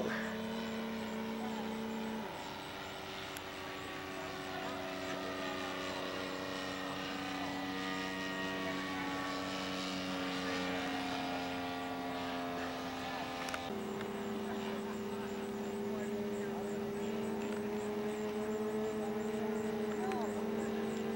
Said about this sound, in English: That's a big airplane.